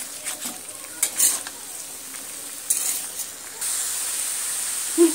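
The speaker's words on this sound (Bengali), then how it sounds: "নুন দিয়ে ফুলকপিটা প্রথমে আমি ভালো করে একদম নেড়ে চেড়ে নেব।" Salted cauliflower is stirred in a hot wok, with bursts of frying sizzle and scraping strokes rising and falling over a steady background hiss; no talking.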